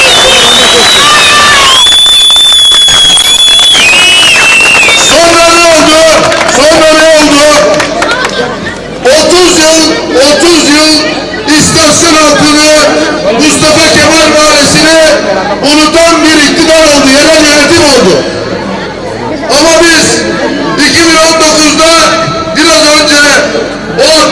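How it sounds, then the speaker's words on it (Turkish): A crowd at a political rally in Turgutlu claps and cheers in a loud, sustained burst, with chanting voices and babble mixed through the applause. "Kocaman bir alkış istiyorum ona, kocaman."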